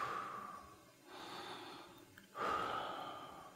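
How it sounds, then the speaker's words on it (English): Slow, deep breaths during a floor workout for the legs: a long exhale, a pause, then a strong inhale and exhale, close and clearly audible, with no talking over them. "I'm gonna breathe and take about 2 or 3 breaths here"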